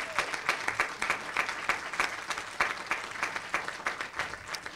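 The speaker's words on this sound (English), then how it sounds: "I think that deserves a round of applause" Council meeting audience applauds a gold medal-winning athlete with dense, sustained clapping that fills the room evenly from start to finish.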